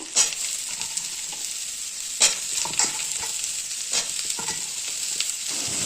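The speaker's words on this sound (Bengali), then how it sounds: "সেই জন্য আলু আর ঝিঙে করে একটু ভেজে নিচ্ছি পেঁয়াজ করে।" Ridge gourd, potatoes and onions sizzle in a pan, with a steady bright frying hiss broken by several sharp scrapes as the spatula stirs them.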